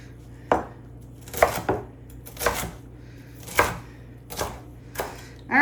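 Knife slicing cabbage thinly on a cutting board for a sweet, crunchy salad: seven or so separate crisp chops spaced unevenly, close and clear over a faint low hum, with no talking.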